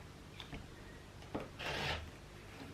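A cutter scrapes through quilt fabric along a ruler in one short rasping stroke, quiet and close, after a few faint shuffles.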